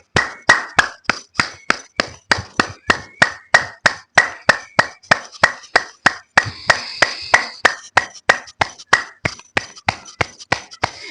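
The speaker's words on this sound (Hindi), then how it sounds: "या फिर आप ताली पूरा इस तरह से" Hands clap in a brisk, even exercise rhythm, about three sharp claps per second, each a crisp close smack, continuing steadily with no talk.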